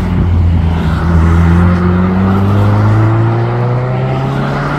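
A boosted Mini pulling away from a car show, its engine droning loud and close as the pitch climbs steadily through the gears while it accelerates off.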